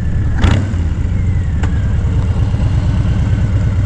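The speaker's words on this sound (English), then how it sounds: "What riding this 2020 lowrider S can do at that." A 2020 Harley-Davidson Low Rider S motorcycle runs on the road, a loud, steady low engine rumble with a couple of brief sharp noises over it.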